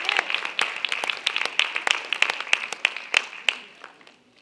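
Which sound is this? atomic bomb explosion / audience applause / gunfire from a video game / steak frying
audience applause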